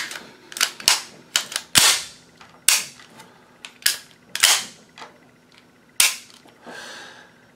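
A reassembled Luger P08 pistol has its toggle action cycled by hand, giving a series of sharp, loud metallic clacks and snaps at irregular intervals, close up with no talking.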